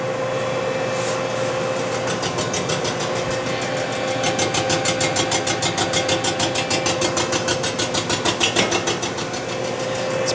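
A boring cutter set to 3 inches cuts a worn cylinder sleeve in a 348 Chevy W-Series engine block, a steady mechanical drone that turns into a loud rapid rhythmic chatter midway.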